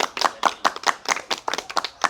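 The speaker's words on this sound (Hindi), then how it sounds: "इस बात पे ज़ोरदार तालियां हम लोग खुद बजाएंगे।" Claps ring out in an uneven rhythm from a small group at a village school gathering honouring a scholarship for girls' education, close and crisp, with no voices over them.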